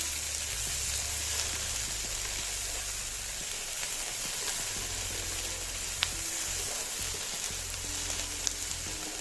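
Vegetables and tomato paste sizzle in a pan for a lasagna sauce, a steady close frying hiss with a low hum underneath and occasional faint clicks of stirring.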